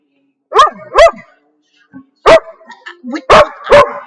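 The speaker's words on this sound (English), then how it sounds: "No barking." A dog barks sharply several times, close and loud, in short bursts separated by brief pauses, with a few softer yips between.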